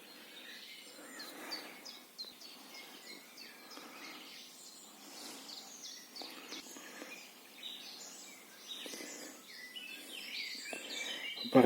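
Many birds chirp and sing in overlapping bursts throughout a forest in June near Stepanivka, Khmelnytskyi region, Ukraine, fairly faint and distant, with a soft insect hum underneath.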